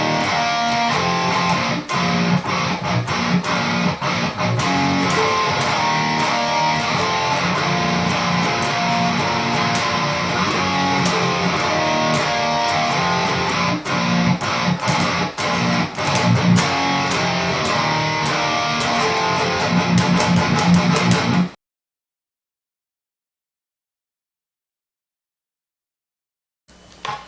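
Distorted electric guitar power chords play the chorus of a song, loud and dense with fast palm-muted chugs for about twenty seconds before cutting to silence, then a brief burst at the very end.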